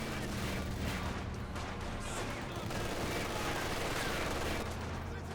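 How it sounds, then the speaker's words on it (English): Sustained, dense battlefield gunfire from an MG42 machine gun in a World War II strategy video game, a continuous loud rattle of shots blended with low rumbling explosions and no clear pauses. "MG42 hitting the conscripts."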